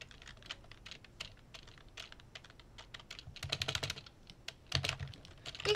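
Someone types continuously on a computer keyboard during a Blade Ball game. The key clicks come close and uneven, with denser, louder bursts toward the end.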